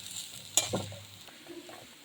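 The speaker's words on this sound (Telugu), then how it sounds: "ఇప్పుడు అల్లం ముక్కలు వేగిపోయి తీసేసుకుందాం" Ginger pieces frying in hot oil, a soft steady sizzle broken by one sharp clank of a spoon stirring the pan, heard close up with no talk.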